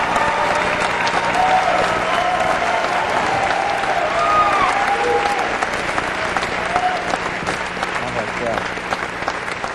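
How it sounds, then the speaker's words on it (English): Loud, sustained applause from a crowd at a live stage talk after a volunteer's turn, continuing strongly throughout with a few voices and whoops mixed into the clapping. "Give him another round of applause"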